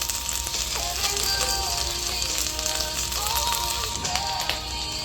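Garlic and ginger paste frying in a pan, a steady bright sizzle and crackle with scattered pops running throughout at close range.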